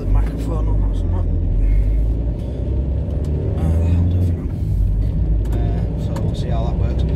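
Steady low rumble of a car engine and road noise heard from inside while driving, continuous and fairly loud, with someone talking over it.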